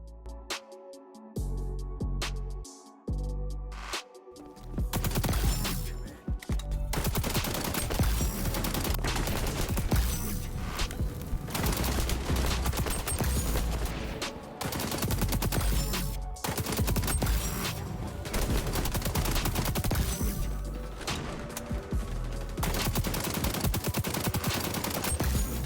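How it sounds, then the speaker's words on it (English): M16 assault rifle firing in a video game: dense, sustained bursts of loud automatic gunfire that run almost without pause after a few seconds of sparser opening shots. "My favorite M16 class, my favorite gun in the entire game."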